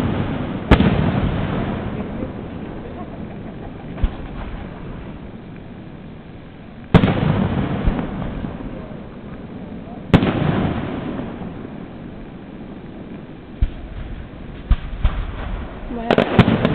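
Fireworks burst nearby in a few loud booms spaced several seconds apart, each followed by long crackling, sizzling trails and scattered smaller pops, with voices murmuring in the background.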